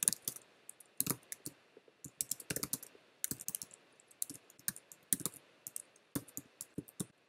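Quick bursts of clicking keys on a computer keyboard as a word is typed into a chat, irregular clusters of taps with short pauses, fairly close and quiet, no voices.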